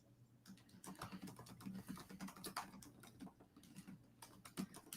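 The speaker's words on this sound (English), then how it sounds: "I'm typing in the chat" Quiet typing on a computer keyboard, irregular bursts of light clicking keystrokes with brief pauses, close and soft, with no one speaking.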